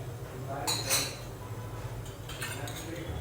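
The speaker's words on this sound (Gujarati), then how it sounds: "જે છાશ આપણે ગરમ કરી હતી એ ઉમેરી લેવાની છે. મિક્સ કરી લઈશું." Warmed buttermilk being stirred into khichdi in a metal pot, with a couple of soft clinks and scrapes of the spoon over a low background hum.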